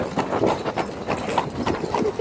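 Horse hooves clip-clop in a steady rhythm as a horse pulls a carriage, close and clear, with people talking over the hoofbeats.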